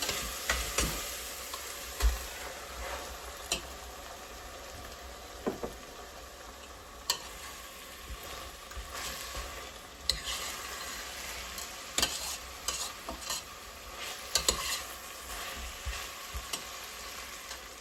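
Minced meat frying with onions while a spatula mashes it in the pan, a low steady sizzle broken by sharp clicks and scrapes at irregular intervals, with no voices.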